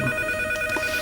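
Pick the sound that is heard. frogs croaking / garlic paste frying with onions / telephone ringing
telephone ringing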